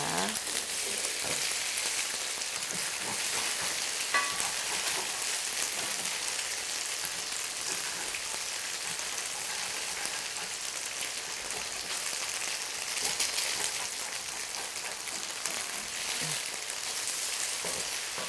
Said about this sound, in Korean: 이렇게 해서 두부를 굽고요